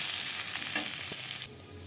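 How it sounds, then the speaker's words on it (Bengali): Onions frying in a pan give a steady, fairly loud hiss, with a faint utensil touch midway, then the sizzle drops to a quieter level near the end. "পেঁয়াজগুলো দেওয়ার পরে না হলে পুড়ে যাবে এটাকে একটু ভেজে নেব"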